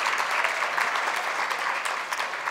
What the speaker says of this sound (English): let's get another big round of applause for our performers